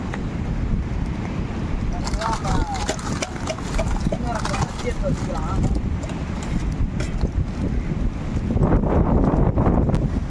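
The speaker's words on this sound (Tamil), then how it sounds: "ரொம்ப காற்று நிற்கிறனால நம்மளுக்கு வந்து அடுப்பு எரியறதே ரொம்ப கஷ்டமாக தான் இருக்குது" Strong wind buffets the microphone at a seashore while fish is fried outdoors on a wood fire, a steady roar that swells louder near the end, with people talking over it.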